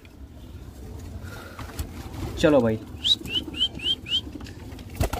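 Pigeons flap their wings in a brief burst and give soft calls, with a short series of chirps following, while someone speaks briefly nearby.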